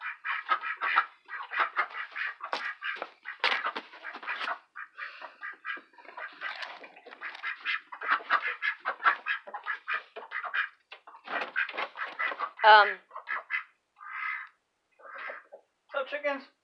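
Chickens and ducks in a backyard coop cluck and quack in dense, irregular bursts close by, with people talking faintly among the birds.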